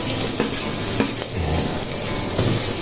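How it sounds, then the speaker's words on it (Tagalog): Garlic sautés in oil in a pan for ginisang ampalaya, a steady close sizzle broken by several scraping stirs of a utensil against the pan. "haluin lang natin hanggang sa mag-golden brown ng bawang"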